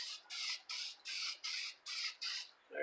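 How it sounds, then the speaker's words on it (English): Seven short bursts of copper spray paint hissing from a can onto a metal arbor press cover, evenly spaced with brief pauses, close and fairly loud, with no talking. "We'll go ahead and spray that front cover with the copper."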